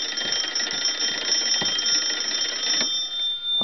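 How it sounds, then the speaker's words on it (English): A wooden wall telephone's bells, rung by its hand-cranked magneto, clang in a loud, continuous metallic trill that runs without pause and cuts off at the end. "you can see that the magneto also rings the bells"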